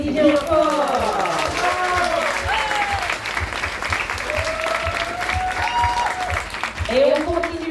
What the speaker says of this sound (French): Merci, on l'applaudit bien fort.